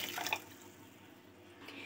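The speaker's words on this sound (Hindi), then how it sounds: "तीन कप के जितना जो है ना हम इसमें पानी ऐड कर देंगे" Water pours and splashes into a cooking pot while a chicken daal soup is being made, loudest at the start, then trails off before a short splash returns near the end.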